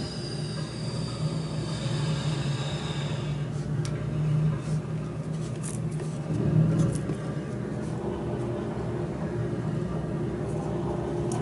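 A locomotive on a Tees Valley shunting run in Train Sim World rumbles steadily as it is put into gear, with a low engine drone, some wheel and rail noise, and no talk.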